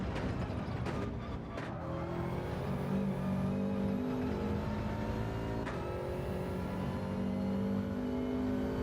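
A Subaru WRX in Gran Turismo 7 drones along at high revs, its engine note rising and holding with gear changes, loud and steady from the driver's seat with no talking.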